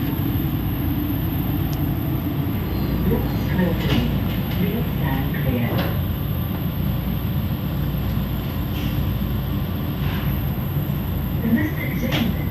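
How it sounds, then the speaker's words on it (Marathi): Steady low rumble of a metro train running inside the carriage, with faint clicks and muffled voices in the background. "सुरू झाली आहे ट्रेन."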